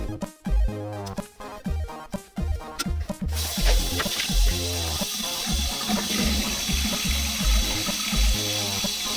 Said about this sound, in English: I've also did this in the shower because now we can rinse off the whole board.